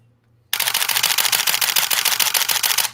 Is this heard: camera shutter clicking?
yes